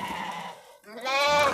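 A yellow, likely pregnant ewe bleats at a sheep and lamb sale: one loud, wavering, nasal call rises after a brief lull, with other animal noise and a crowd murmur around it.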